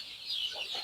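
Chickens cluck faintly in short, soft bursts over a quiet background, with no talk in the brief moment.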